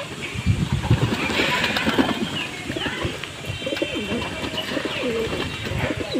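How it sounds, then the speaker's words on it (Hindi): Several pigeons coo repeatedly as the flock comes out into the open, soft rolling calls overlapping near and far over a steady background hum, with no talk. "धीरे धीरे करके सारे कबूतर बाहर आ रहे हैं"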